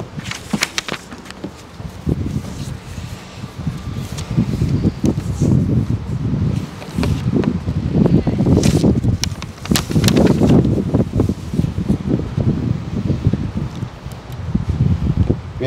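Gusty wind blows against the microphone, producing rustling, buffeting noise with occasional sharp crackles, and no one speaks.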